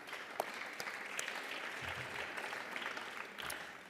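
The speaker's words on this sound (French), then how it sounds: "On peut l'applaudir, je pense." Faint, sustained applause fills the French National Assembly chamber as a crowd claps continuously for several seconds, with a few sharper claps standing out.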